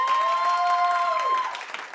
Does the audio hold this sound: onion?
no